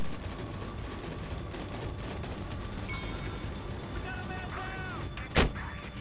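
Gunfire in the video game Battlefield Hardline: a single loud, sharp shot cracks near the end over a constant rumble of battle noise and distant weapon sounds.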